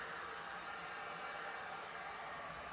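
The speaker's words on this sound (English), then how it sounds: "It's like a big old hair dryer." A steady, loud whooshing roar of a blower used while making an epoxy resin countertop, like a hair dryer running continuously at constant strength with no pauses.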